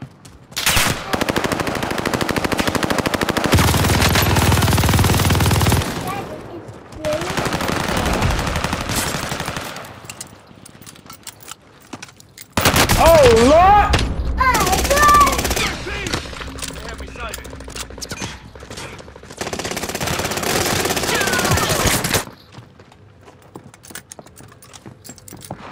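Gunfire in a shooter video game comes in several loud sustained bursts of rapid automatic fire, separated by short quiet gaps, with other game effects in between.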